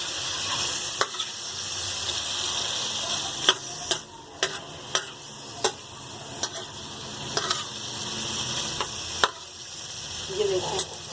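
A spatula stirs liver frying on a hot tawa, giving intermittent scraping clicks over a steady soft sizzle, close and fairly quiet, with a brief voice near the end.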